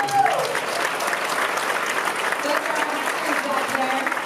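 Applause for a hackathon team at an office event, a full, steady round of clapping from a gathered group, close and sustained throughout with faint voices mixed in.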